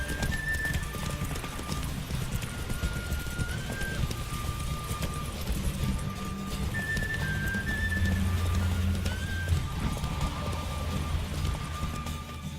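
Hooves of a horse in The Witcher 3 clatter in a fast, steady gallop during a race, loud and continuous with brief whinny-like tones and game music underneath.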